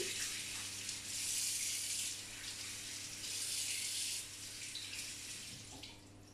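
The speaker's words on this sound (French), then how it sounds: "Je vais aller juste rincer mes 4 pommes de terre" Tap water running over four potatoes being rinsed in a kitchen sink, a faint continuous splashing hiss that swells and eases with handling.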